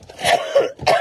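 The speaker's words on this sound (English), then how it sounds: "I think you're coughing" A person coughs a few times in quick succession, close and fairly clear, with a short pause before a final throaty cough.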